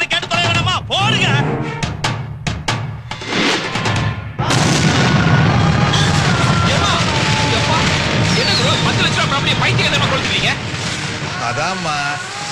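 Firecrackers go off in a dense, loud barrage of cracks and booms, with a few separate bangs at first and then a sustained roar, while people talk over it.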